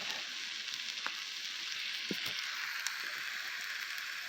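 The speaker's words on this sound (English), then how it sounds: "I'm sure you can hear it sizzling." Steaks cooking over a campfire outdoors, giving a steady faint hiss and crackle of sizzling fat with a few soft pops, continuous and without voices.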